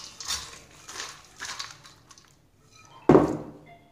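Fried dry fruits are scraped out of a pan onto a plate in a home kitchen: several soft, quiet scrapes and rattles, then a louder clatter near the end.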